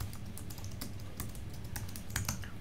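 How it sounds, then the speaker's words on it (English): Quick, uneven keystrokes on a computer keyboard while entering a search for forms, close and clear with small pauses between bursts of typing. "Now I can also come in here and start typing"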